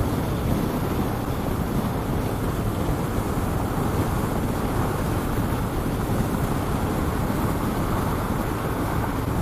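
Strong wind roars past a rider on a 2018 Harley-Davidson Low Rider with a Milwaukee-Eight engine and no windshield, a loud, continuous rushing buffet over the microphone with no break.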